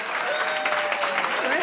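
A comedy club crowd applauds in a vote by clapping, brisk continuous clapping mixed with a few voices over the top.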